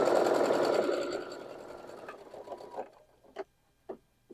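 A sewing machine stitches quilt block seams in a loud, rapid whirring run that slows and stops, followed by a few faint clicks and taps.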